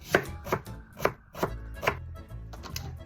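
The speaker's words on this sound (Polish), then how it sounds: "Teraz kroimy jedną czerwoną cebulę w drobną kostkę." Close, brisk knife chops on a board, about six quick strikes in a steady rhythm as a red onion is finely diced. No talking.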